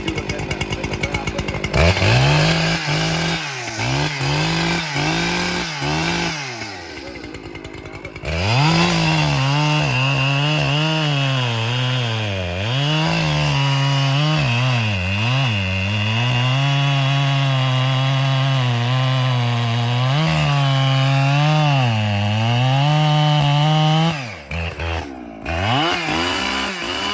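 A chainsaw, not a Stihl or Husqvarna, cuts through a red cedar log, running loud and close with a throaty, loping drone that bogs and revs as the chain bites in, with brief idles near the start and end.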